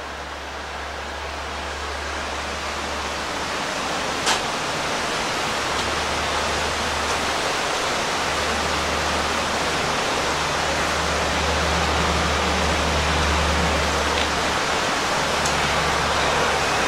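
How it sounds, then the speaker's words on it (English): Water cascading over a series of small bedrock shelves near a Pennsylvania covered bridge gives a loud, steady rushing roar that continues unbroken throughout. "there's a whole series of those cascades out there going over these little bedrock shelves."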